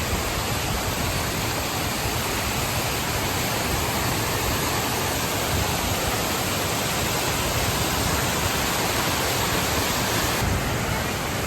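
Bhaje waterfall in Maval, Pune, roars in a steady, dense rush of pouring water, loud and unbroken throughout.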